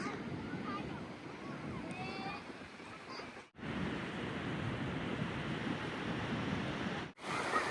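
Surf washes onto a beach at Ok-U Beach Resort in Dingalan, Aurora, Philippines, at high tide, a steady rushing roar of waves with wind buffeting the microphone and two brief dropouts.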